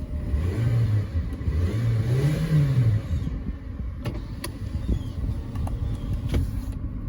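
A 2021 Nissan Versa SV's 1.6-liter engine idles and revs gently, a low steady hum rising and falling before settling into a rough, even drone.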